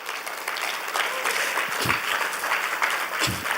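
A church congregation claps loudly in sustained, dense applause that holds steady throughout, close and alone, with no voices heard.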